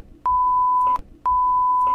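Two steady, loud censor beeps, each about three-quarters of a second long with a short gap, mask swear words in a Korean political speech; only faint muffled sound between them.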